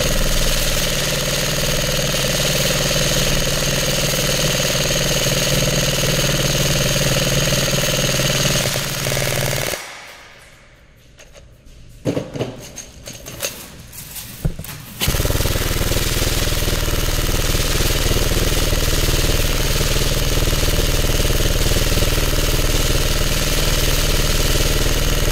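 A Lancer Tactical Gen 3 airsoft rifle fires continuously in a rapid, buzzing full-auto stream, loud and close. A roughly five-second break with scattered clicks and handling noise interrupts it before the sustained firing resumes.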